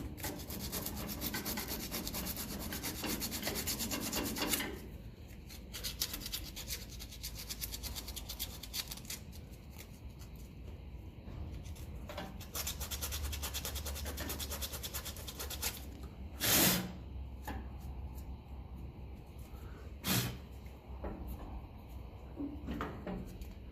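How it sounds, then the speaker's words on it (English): Sandpaper rubs back and forth against a Massey Ferguson 35 tractor part in steady, close scratchy strokes, with a few louder scrapes and knocks in between. "Get under there with a bit of sandpaper."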